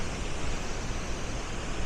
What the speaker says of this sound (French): Là, je suis vraiment en train d'observer la cascade.